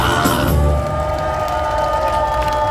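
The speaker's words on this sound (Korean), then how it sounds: "총재님께 박수 한 번 더 잘해다시려고 박수 한번 합시다." Large outdoor rally crowd in a city square cheering and applauding, loud and sustained, with a brief louder swell near the start.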